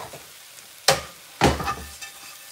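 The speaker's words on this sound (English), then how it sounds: "I gotta saute them corn" Corn hitting a hot pan to sauté, two sharp sizzling bursts a moment apart, settling into a quieter fry, close and without talk.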